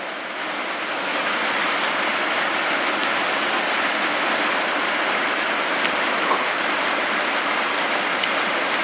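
Steady, dense rain pours down in an even, unbroken hiss that stays close and fairly loud throughout, with no voices.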